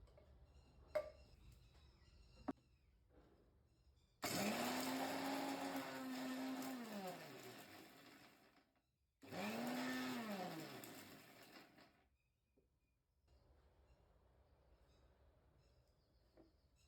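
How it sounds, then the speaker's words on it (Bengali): An electric grinder pulverizes roasted makhana (fox nuts) in two loud bursts, the motor's whine rising as it spins up and sinking as it slows, separated by a short pause, with quiet room noise and a few clicks before and after. "চলুন গ্রাইন্ড করে নিই।"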